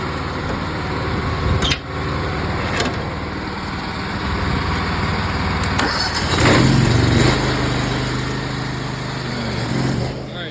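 A small engine just started and held at throttle runs at a steady drone for a house oxidation removal job, fairly loud and close, with brief clanks and a slight rise in pitch partway through.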